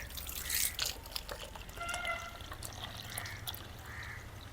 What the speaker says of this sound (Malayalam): ഒരു നാല് കപ്പ് വെള്ളം ആഡാക്കട്ടോ